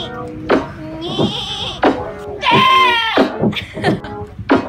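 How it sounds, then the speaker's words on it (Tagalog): A goat bleats several times close by in loud, wavering calls, mixed with short voiced sounds and a few thumps. "May kambing dito."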